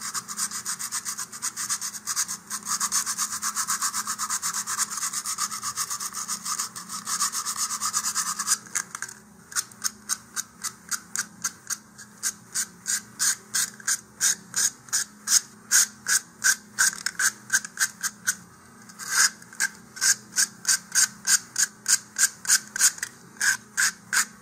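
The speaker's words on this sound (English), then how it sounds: "if I roll up a little bit of sandpaper here, like this, I can use it to clean up those inside edges" Rolled-up sandpaper scrubs along the inside edges of a wooden Viking outrigger piece. A continuous rasp gives way to quick, rhythmic back-and-forth strokes, close and fairly loud, with no voices.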